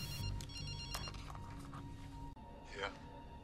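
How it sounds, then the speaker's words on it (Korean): A telephone rings in a movie scene with a steady electronic ringtone, fairly quiet under a background score, with voices briefly heard near the end. "비숍은 해리에게 전화를 겁니다"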